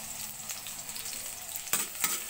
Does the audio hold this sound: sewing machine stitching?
no